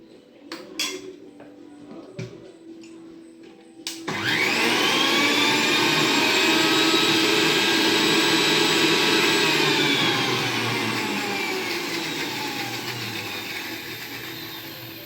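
An electric kitchen mixer whirs loudly and continuously while blending garlic sauce for a bread sandwich, after a few clinks and knocks of the jar being set in place.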